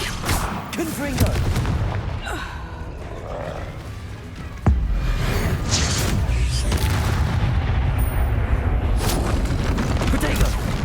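Spell explosions from the Confringo fire spell in Hogwarts Legacy combat, loud booming blasts with a sharp impact near the middle, layered over continuous roaring battle noise and game effects.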